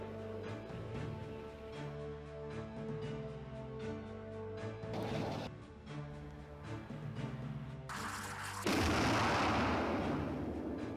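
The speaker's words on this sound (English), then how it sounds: "The Kuwaitis have launched missiles." Missiles launched during a naval battle in the warfare game SCS Fleet Command, heard as heavy booming blasts and a roaring rush that swells near the end, set against a steady layered musical background without speech.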